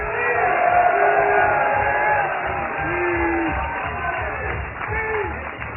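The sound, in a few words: crowd applauding and cheering at fishing tournament weigh-in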